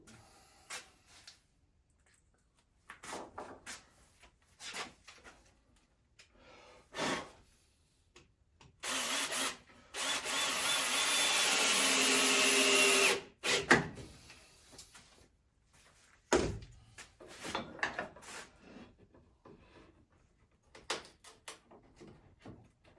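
A screw is driven into a wooden chair joint during assembly of a conoid-style chair, with a sustained whirring burst of a few seconds from the driver amid scattered quieter workshop knocks and handling noises.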